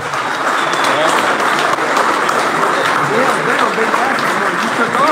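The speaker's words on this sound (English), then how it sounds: "give these guys a big round of applause." An audience at a captains' meeting applauds, a dense, steady burst of clapping from many hands lasting several seconds, with a few voices mixed in.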